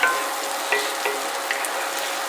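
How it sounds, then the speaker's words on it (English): Shallots sizzle steadily in a frying pan on medium-high heat, a constant close crackling hiss with faint scrapes and taps as they are stirred. "I'm going to go ahead and add my shallots"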